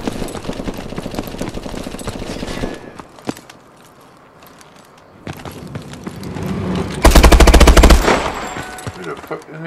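Automatic weapon fire in the online shooter Call of Duty: Advanced Warfare, loud rapid bursts with quieter gaps between them and a very loud close burst near the end, with players talking in the background.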